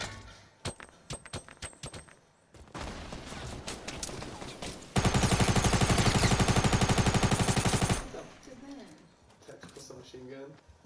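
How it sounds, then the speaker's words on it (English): Fortnite gunfire comes first as scattered single shots, then rapid bursts, then a sustained loud stretch of rapid machine-gun fire lasting several seconds before it stops, and voices are heard in the background. "Machine gun."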